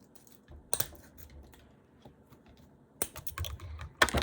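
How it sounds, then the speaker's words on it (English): Scissors snip in a few sharp, crisp cuts, close and fairly quiet, with short pauses between the clusters of snips. "I'm just using regular old kitchen scissors"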